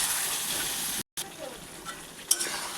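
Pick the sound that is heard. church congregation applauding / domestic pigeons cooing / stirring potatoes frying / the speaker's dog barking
stirring potatoes frying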